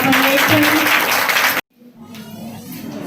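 Congregation clapping in a church during a Sunday prayer meeting, a loud dense burst of applause that cuts off abruptly halfway, followed by quieter murmuring and faint voices.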